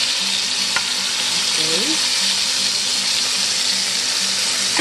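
Chicken going into hot oil in a makeshift kitchen, giving a loud, steady sizzle and crackle throughout, with a brief spoken word over the frying.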